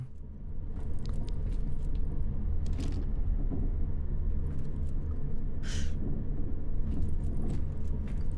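Long elevator ride in the video game Daymare 1998, a steady low mechanical rumble with occasional metallic rattles and clinks, continuous and fairly close, no talking.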